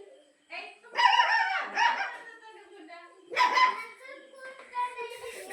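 A dog barks in a few short, sharp bursts at close range, mixed with people talking nearby.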